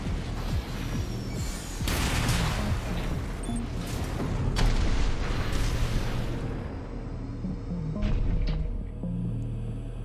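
Missile explosions from a hovering mech in Armored Core VI, a run of heavy booms and bursts layered over a low mechanical hum, with several sharp blasts rising and fading across a loud, busy battle mix.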